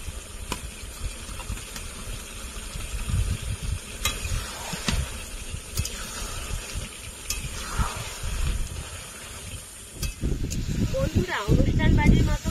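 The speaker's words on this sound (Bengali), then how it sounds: "এখন আমি বেগুন ভাজাগুলো দিয়ে দেব।" Fried eggplant pieces go into a mixed vegetable curry simmering in a pan, with continuous sizzling, clinks and scrapes of stirring, and a surge of sizzle near the end. A voice talks over it.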